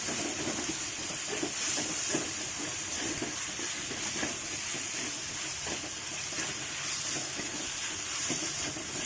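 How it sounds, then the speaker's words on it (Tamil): Ginger garlic paste sautés with onion and tomato for a chicken gravy, giving a continuous hissing sizzle with faint stirring clicks throughout, fairly soft and without talk. "இஞ்சி பூண்டு பச்சை வாசனை போகிற அளவுக்கு வதக்கிக்கலாம்"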